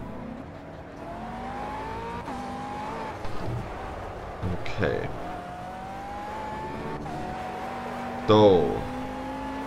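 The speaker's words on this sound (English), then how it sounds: "The engine is quite low in volume, I can't really hear it." Engine of a McLaren GT3 race car in the Project CARS video game hums low and steady, shifting pitch through gear changes, faint beneath someone talking close up.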